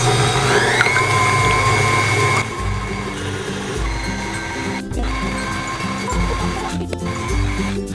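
An electric mixer whisks egg whites with vanilla extract in a mixing bowl for Halloween meringue cookies, giving a steady, loud motor whir that shifts pitch partway through and carries on alone for the whole stretch.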